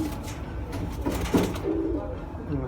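A Sialkoti pigeon, a breed offered for sale, gives soft low coos among handling noise, with people talking close by.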